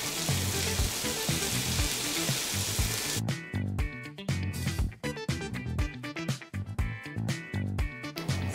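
Ghee sizzles loudly in a pan while chicken kali mirch cooks with crushed black pepper, a steady hiss for about three seconds before music takes over.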